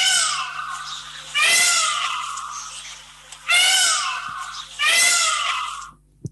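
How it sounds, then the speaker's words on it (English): A peacock gives three loud, piercing screams, each a drawn-out wailing cry that falls in pitch, with short pauses between them and no other sound. "A peacock screams."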